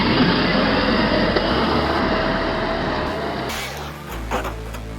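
An Arrma Senton Mega RC truck fitted with a BLX brushless motor launches under full throttle, a steady loud electric whine and drivetrain roar that holds, then drops off near the end.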